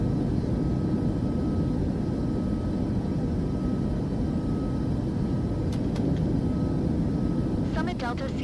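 A Cessna CT210N engine in Microsoft Flight Simulator 2024 drones steadily and loudly throughout after takeoff, with a few brief chirps near the end.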